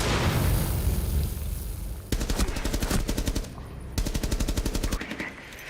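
Rapid automatic gunfire in Rainbow Six Siege pours into an object, two long bursts of evenly spaced loud shots with a short pause between, following a muffled rumble at the start.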